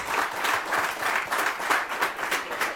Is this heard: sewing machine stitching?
no